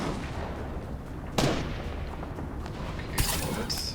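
Gunfire in a first-person shooter game played on a custom gaming PC: two sharp, booming shots about two seconds apart over a dense, steady wash of in-game noise, with no speech.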